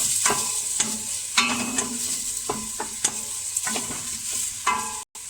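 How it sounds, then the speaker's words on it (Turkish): Onions fry in sizzling oil while a utensil scrapes and clatters against a pot in irregular strokes, close up, with no talking. "Evet soğanımızı karıştıralım."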